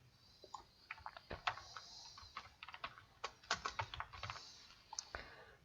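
Code typed on a computer keyboard, with quiet, close, irregular clicking keystrokes that come in quick clusters with short pauses between them.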